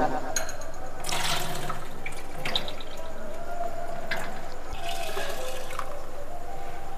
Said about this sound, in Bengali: ডালটা আমি ভালো করে ধুয়ে নিচ্ছি 2-3 বার ধরে।